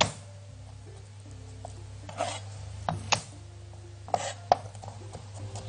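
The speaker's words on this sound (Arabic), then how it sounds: "فصين ثوم مفرومين، افرمهم ناعم جدا." Two garlic cloves are chopped finely on a cutting board, giving soft, scattered knife taps and scraping, faint and fairly close over a steady low background hum, with no talking.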